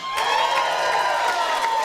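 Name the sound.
audience clapping and cheering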